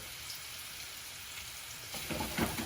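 Paprika meatballs sear in a hot pan with a soft, continuous sizzle that swells louder near the end, and no one speaks.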